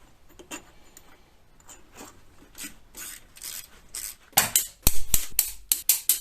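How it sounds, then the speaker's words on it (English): AC pump bolts tightened on a car engine with a hand ratchet, starting with soft intermittent clicks and building to louder, sharper ratcheting strokes near the end, close by and without talk. "Installing the AC pump bolts."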